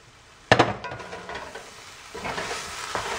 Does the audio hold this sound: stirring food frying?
yes